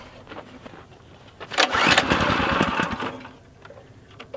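Quiet background, then a small trash pump engine sputters and catches with a loud burst, runs roughly for about a second and a half, and settles back down.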